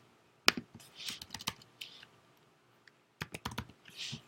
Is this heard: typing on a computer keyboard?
yes